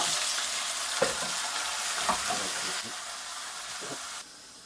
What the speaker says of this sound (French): C'est le moment de mettre la viande